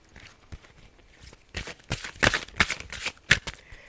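Tarot cards being shuffled by hand, a run of soft papery riffles and slaps that build into several sharper bursts near the end, close and fairly quiet, with no talk.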